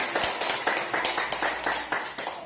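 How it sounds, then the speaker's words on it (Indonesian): Classroom of students claps in a quick, regular rhythm, a run of about a dozen distinct close claps at an even pace. "Silakan tepuk tangan."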